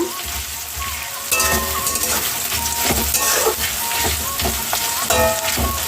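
Chopped onions frying in hot oil while being stirred until browned, a loud close sizzle that jumps up after the first second, with repeated scraping strokes and metallic clinks of the spoon against the pan.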